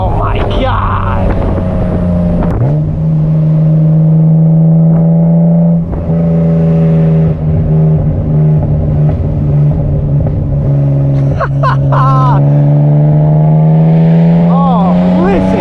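A straight-piped BMW Z3M with an M3 engine drones loudly at a steady cruise before blipping into sharp revs near the end, recorded close from the cabin with wind rush.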